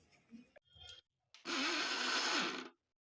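A mixer grinder grinds soaked lentils (dal): after some faint handling clatter, its motor kicks in with a loud, steady whir lasting just over a second, then cuts off abruptly into silence.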